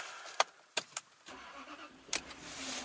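A Jaguar car's ignition is cranked after a few sharp clicks and rattles of the key, then the engine catches and settles into a faint, steady idle.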